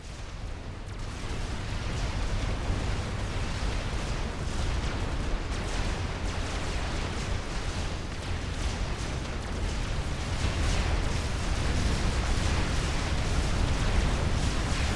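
Tech 1 artillery explosions in the strategy game Supreme Commander: Forged Alliance Forever, a 6v6 match, as a dense continuous barrage of booming blasts and crackling bursts that stays loud and unbroken throughout.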